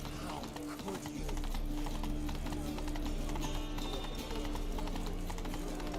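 Horse hooves clip-clopping in The Witcher 3, a steady rhythmic trot heard at moderate loudness beneath game music and ambient sound, with occasional speech-like game voices mixed in.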